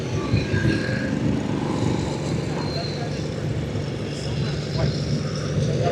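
A propeller aircraft taxis past in an airshow parade, its steady engine drone carrying on throughout against a broad outdoor rumble.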